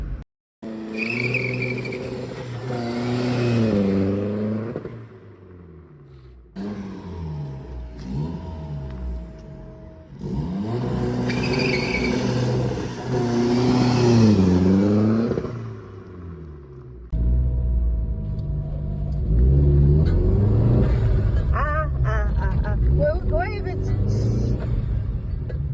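A swapped car engine revs hard in repeated surges, rising and falling in pitch, loud and close, with brief pauses between bursts and some voices talking.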